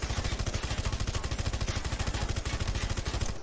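Rapid automatic rifle fire in the video game Red Faction Guerrilla, a steady, evenly spaced stream of loud shots running without a break.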